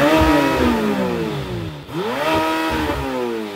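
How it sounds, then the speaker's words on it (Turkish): A Lamborghini Temerario's high-revving turbo V8 sweeps up and down through its range in two strong rising pulls, loud and sustained with a brief dip between them. "Gerçekten de motoru dinlediğinizde V10'u anımsatıyor."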